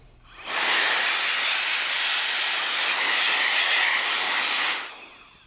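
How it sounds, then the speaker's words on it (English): A compressed-air tool blasts debris out of a Benelli M2 semi-auto shotgun's receiver in a single loud, close hiss lasting about four seconds, starting and stopping abruptly. "Any kind of debris and buildup in the receiver, just blow that out with compressed air"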